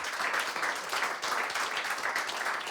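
A small gathering in Santa Fortunada, Corrèze, breaks into applause, a dense, steady patter of clapping that holds at an even level throughout with no voices on top.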